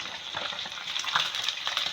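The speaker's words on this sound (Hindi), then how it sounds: "ये देखें कितनी अच्छी सी फ्राई हो गई है।" Fish fries in hot oil for a fish karahi, a close, continuous crackling sizzle with scattered pops and a light stir partway through.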